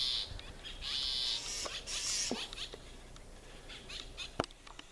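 Birds squabbling in a garden, with shrill scratchy calls and chirps bursting out in uneven flurries, plus a few sharp clicks and one louder snap near the end, all over outdoor background noise.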